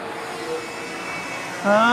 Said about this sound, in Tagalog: Lilipad na po yung drone na binili nila.